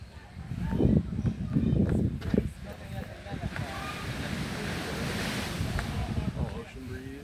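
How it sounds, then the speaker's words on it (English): Ocean waves wash ashore on a beach with wind buffeting the microphone, a continuous rushing roar close by, with people talking over it. "Oh, ocean breeze."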